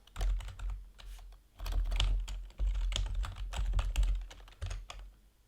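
Quick, close clicking of computer keyboard keys as a URL is typed, in uneven bursts with short pauses between them.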